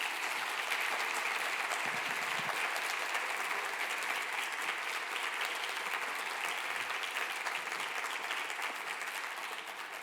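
An audience at a women's church leadership conference applauds to welcome keynote speaker Joan Rosenhauer, a dense, sustained wash of clapping from a large room that holds steady for about ten seconds before easing slightly at the end.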